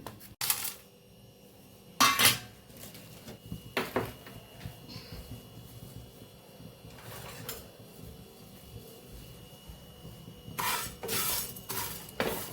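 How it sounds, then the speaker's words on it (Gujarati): Whole coriander seeds and fennel are dry-roasted in a pan, with scattered clinks and scrapes from stirring in short bursts and quieter stretches between them. The sounds are fairly faint and close. "આ મસાલાને આપણે શેકી લેશું"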